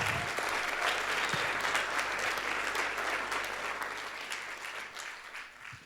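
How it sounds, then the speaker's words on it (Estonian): Audience applause at a playback show, sustained dense clapping from a hall full of people that slowly fades toward the end. "Ja teeme neile veel ühe suure aplausi"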